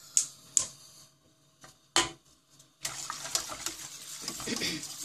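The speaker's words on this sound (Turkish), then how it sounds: "Güzelce kıvam alana kadar bu şekilde sürekli karıştırıyorum." A few sharp clinks and taps of a utensil on a pot, then steady scraping and swishing as thick custard is stirred continuously over heat.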